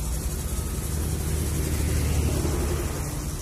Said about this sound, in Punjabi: ਹੈਲੀਕਾਪਟਰ ਆ ਰਿਹਾ ਤੁਹਾਨੂੰ ਲੈਣ